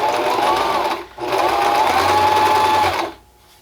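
A sewing machine runs in two fast, whirring bursts with a brief pause between, close and loud, then stops.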